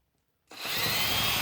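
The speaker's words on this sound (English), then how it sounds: "and get it with the drill" A power drill bites into a scrap electronic power board, starting abruptly after brief silence and running on as a steady, harsh, close whine and grind.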